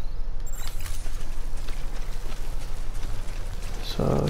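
Timefall rain in the video game Death Stranding falls steadily as a constant hiss of drops on surfaces, with a brief bright sound near the end.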